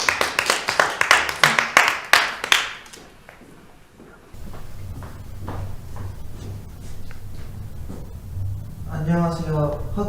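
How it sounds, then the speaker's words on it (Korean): Classroom applause welcoming class president candidates to give speeches: a run of sharp, evenly spaced claps for about three seconds, then it stops and a low hum and voices follow. "박수로 맞이해주세요."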